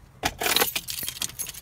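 Car keys jangle up close while being found during a crooked steering wheel repair, a sudden bright metallic clatter followed by a steady run of lighter jingling.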